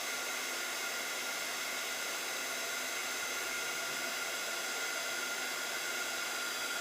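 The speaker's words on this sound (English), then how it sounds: "if it's blowing around too much, I can take the heat gun higher up" Heat gun blowing hot air steadily over shrink plastic, a constant even whoosh of moderate volume with no pauses, heard alone without talk.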